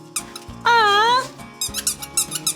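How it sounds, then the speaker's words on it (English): A pink snake-shaped dog toy at an animal shelter gives several loud, close rubbery squeaks, one long drawn-out wail in the middle and quicker short squeals after, with a small dog nearby. "Whoa, cool squeaky toy."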